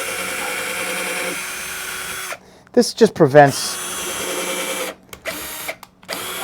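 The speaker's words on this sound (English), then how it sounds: "I'm just going to pre-drill a few holes" A power drill pre-drills holes in a wooden board for a homemade no-till crop crimper, whirring steadily, then pausing while someone speaks briefly, then whirring again.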